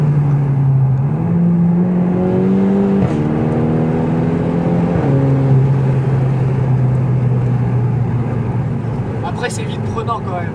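A Volkswagen Golf 6 GTI Edition 35 hot hatch, around 300 hp, revs up hard, its pitch climbing in steps through gear changes, loud and close, with a steady roar underneath throughout.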